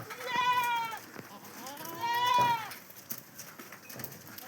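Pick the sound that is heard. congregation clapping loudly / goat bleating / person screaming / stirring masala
goat bleating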